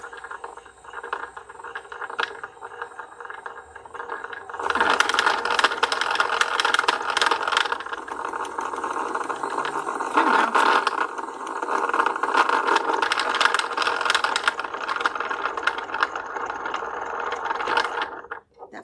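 Sewing machine winds a bobbin, a continuous rattling mechanical whir that starts abruptly after a few quiet seconds and runs steadily at close range, with no talking.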